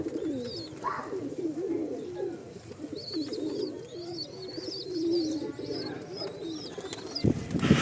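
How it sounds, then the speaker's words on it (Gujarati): Pigeons coo in low rolling murmurs nearby while small birds chirp faintly overhead; a sharp thump sounds near the end. "આ કબૂતર ઉડ્યા છે હવે"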